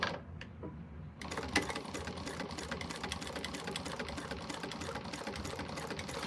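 A sewing machine top stitching a quilted cactus bag starts with a brief quiet moment and a few clicks, then settles into a continuous, fast, even mechanical whir with rapid needle ticking up close.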